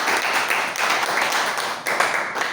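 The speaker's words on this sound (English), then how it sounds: "let's clap for everyone else." Audience clapping at a public speaking event, a steady crowd applause of many hands that swells and dips in waves, fairly loud and near.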